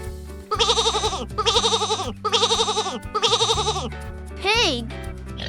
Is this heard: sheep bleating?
yes